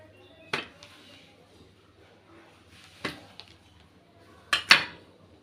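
A knife cuts through a chilled Oreo biscuit roll, giving three sharp crunching cuts spaced a few seconds apart, the last a quick double crack, close by against quiet kitchen background.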